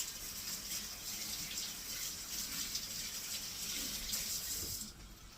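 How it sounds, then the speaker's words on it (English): A kitchen tap runs steadily as hands are washed clean of liver blood beneath it, a soft even splash that drops off abruptly near the end, faint and with no talk. "let me wash my hands real quick"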